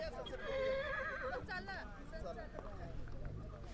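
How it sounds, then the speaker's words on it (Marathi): A horse whinnies in a long, wavering call near the start, fairly loud, then fades into a murmur of outdoor background noise on the Table Land plateau at Panchgani around sunset. "हे घोडे बऱ्याच वेळा ओर ओरडतं आहे ते कदाचित यात रेकॉर्डिंग होईल"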